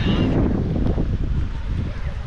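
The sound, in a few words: wind at the seaside beach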